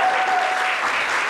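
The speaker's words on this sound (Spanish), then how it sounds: "Vamos a darle un fuerte aplauso a María Castro." Studio audience applauding a guest, actress María Castro, on a theatre-set talk show; a dense, steady burst of clapping heard close and loud for a short moment, no voices over it.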